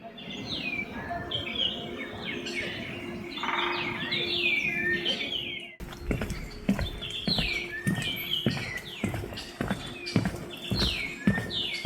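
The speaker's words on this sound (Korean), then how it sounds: "새소리가 얼마나 다양하고 예쁜지 마치 배경음악을 깔아놓은 것 같죠?" Several birds chirp and trill in varied short calls against a steady outdoor background beside Chopyeong Lake, with a run of soft regular thuds like hoofbeats or footsteps in the second half.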